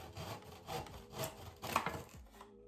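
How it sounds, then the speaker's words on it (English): Wood is sawn by hand in a miter box, quiet rhythmic back-and-forth rasping strokes, about five of them, close by with no talk. "a proper miter box with a saw, which has the correct 45-degree angles"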